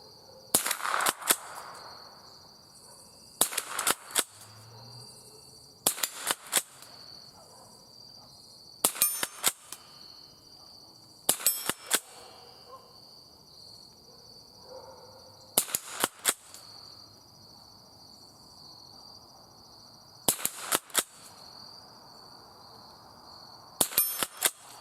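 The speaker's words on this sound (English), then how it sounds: "just for fun at those steel targets down there." A Remington pump-action rifle fires .22 LR rounds at steel targets outdoors, eight sharp cracks spaced a few seconds apart, each followed by a ringing metallic ping from the hit steel, with insects humming faintly between shots.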